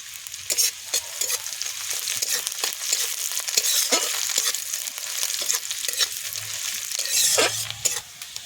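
Onions and dried red chillies fry in a pan with bay leaf, crackling in a steady close sizzle broken by repeated scraping stirs of a spatula.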